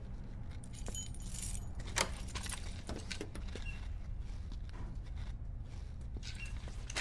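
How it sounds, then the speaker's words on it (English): Keys jangle and scrape against a security door lock, a continuous close metallic rattling with scattered clicks over a steady background rumble, no voices. "There's keys in the door."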